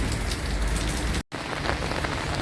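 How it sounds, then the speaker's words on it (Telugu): Heavy rain falls steadily in a dense, close hiss of drops striking surfaces, with a momentary dropout midway. "అప్పటి నుండి వర్షం వర్షం వర్షం చూడండి కెమెరా మీద కూడా వర్షం పడిపోయింది"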